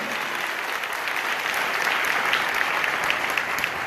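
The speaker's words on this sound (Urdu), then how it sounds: "اس کے لیے زوردار تالیاں ہو جائیں" Steady, dense applause from a large crowd at an Easter church gathering, loud and continuous throughout with no pauses.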